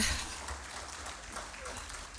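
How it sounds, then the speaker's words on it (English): Applause from a lecture audience at an annual law symposium, fairly faint and steady, a diffuse wash of clapping throughout the short stretch with no clear voices. "Can we please give him another round of applause?"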